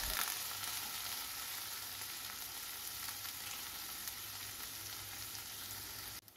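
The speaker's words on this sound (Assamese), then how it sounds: "দি অকণমান সময় লৰাই দিছোঁ" Brinjal pieces fry in oil in a pan for a sardine and brinjal sour curry, producing a soft, even crackling sizzle that continues without pause until an abrupt stop.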